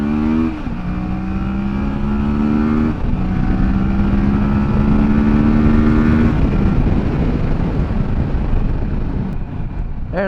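Kawasaki Versys 650 motorcycle accelerating hard under added weight, its engine note rising through the revs, dropping briefly at a gear change near three seconds, then pulling on steadily, loud and close throughout.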